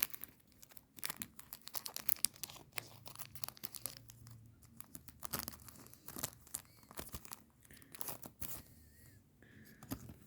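A football card pack being torn open by hand, close crinkling and ripping of foil wrapper in quick bursts, fairly quiet with no talking.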